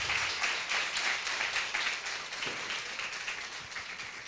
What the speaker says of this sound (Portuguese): eu peço uma salva de palmas, então, para as participantes